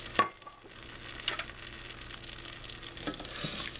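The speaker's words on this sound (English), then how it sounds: "I'm going to stir the rice up, almost frying the rice in a way." Rice being stirred into bubbling butter in a pan, a soft steady sizzle with a few scraping stir sounds near the start and end, heard up close with no talking.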